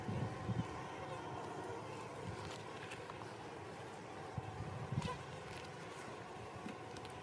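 Honeybees buzz steadily at an open hive during a winter check, a dense continuous drone close by with a few louder passes, while people talk quietly underneath.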